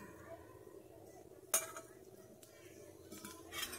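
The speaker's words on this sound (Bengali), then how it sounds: "পাতাগুলোকে এইভাবে শুকনো কড়ায় নেড়ে নিচ্ছি।" Kharkol leaves being stirred in a dry wok, soft scraping and rustling with a few metallic clinks of the utensil against the pan, faint and close.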